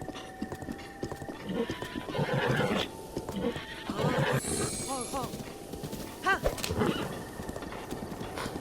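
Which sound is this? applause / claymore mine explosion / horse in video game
horse in video game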